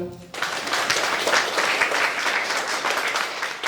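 Following a brief spoken introduction, hearty applause from an audience at a Christmas carolling show in Stępocice bursts in and carries on steadily, many hands clapping close and loud for a few seconds.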